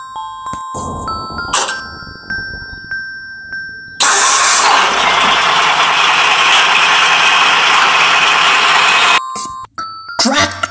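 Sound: tipper truck engine starting

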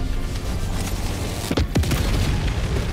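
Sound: 500kg bomb explosion in video game Helldivers 2

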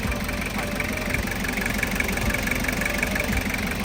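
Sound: Toyota Commuter 3.0 diesel engine running

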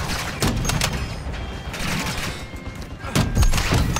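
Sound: gunshots in video game Call of Duty Modern Warfare

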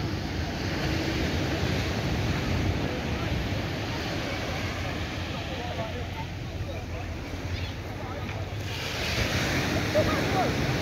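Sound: waves on Dover Beach, south coast of Barbados

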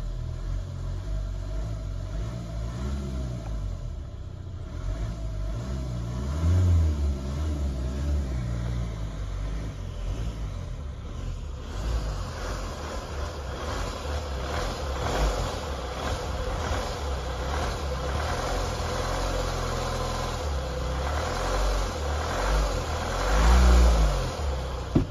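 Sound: car engine rattling rising with engine speed

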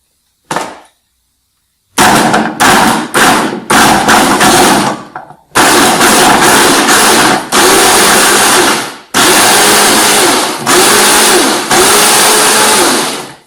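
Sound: Fakir Vienta 1700 W blender running

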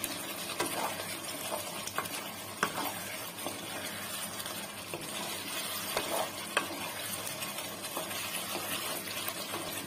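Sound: stirring chicken kosha after adding garam masala

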